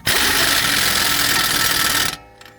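A power tool, likely an impact gun, spins the axle nut on a Toyota Camry front wheel knuckle for about two seconds, loud and close, then stops abruptly with a couple of small clicks.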